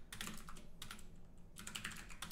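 Typing on a computer keyboard: two or three quick clusters of soft keystrokes, close but quiet, with short pauses between them.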